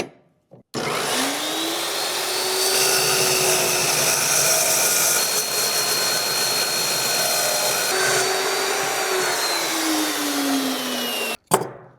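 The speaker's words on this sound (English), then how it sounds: "Now I'm going to set the saw to 45. Just going to cut the end off of this one." A power saw set to a 45-degree angle cuts the end off a piece of rebar stool stock, spinning up with a steady loud whine, holding through the cut for about ten seconds, then winding down and stopping with a knock.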